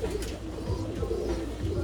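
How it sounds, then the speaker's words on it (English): Long face tipplet cap pigeons coo in soft, low, rolling calls that repeat through a steady background murmur, close by and fairly loud, with no talking. "Now behind me, New York Tony has developed the long face tipplet caps,"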